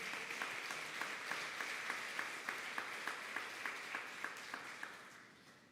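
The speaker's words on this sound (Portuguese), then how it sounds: "Dê um aplauso ao Senhor." Church congregation applauding at an evening worship service, a steady wash of clapping with a regular rhythmic beat of unison claps running through it, fairly distant and even, fading toward the end.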